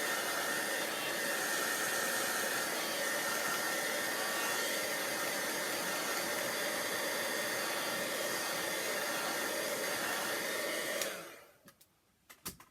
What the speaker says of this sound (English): Quick dry with the heat gun.